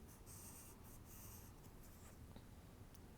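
Pen or marker writing out a handwritten math solution to a square root equation, a steady close scratchy stroking that runs continuously with brief pauses between strokes, no talking.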